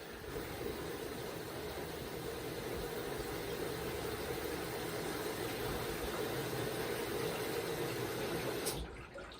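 A Maytag 2000 Series washing machine with a newly replaced bellow spins steadily with water running, giving a loud, continuous broadband rush and hum that holds evenly for about nine seconds before cutting off abruptly near the end.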